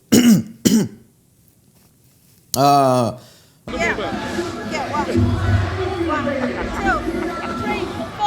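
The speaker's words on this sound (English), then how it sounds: "I'm just clearing my throat." Two quick raspy throat clearings, then a longer voiced throat-clearing grunt, followed by loud, busy background noise.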